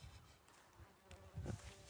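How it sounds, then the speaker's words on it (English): A wasp buzzes close by outdoors, a faint, wavering insect drone that rises and fades over a couple of seconds, swelling louder briefly near the end. "Oh, damn wasp."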